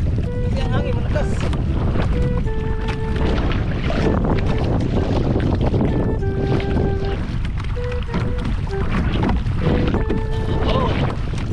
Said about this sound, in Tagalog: Itong bangka natin ay tabi-tabi. Kasi ang hangin malakas.